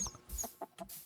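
Chickens in the Minecraft video game cluck in a short, quiet burst of a few soft clucks.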